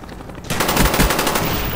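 A friendly Cobra attack helicopter opens fire in the video game Call of Duty: Black Ops, loud rapid bursts of gunfire cutting in abruptly after a quiet moment and rattling on continuously to the end.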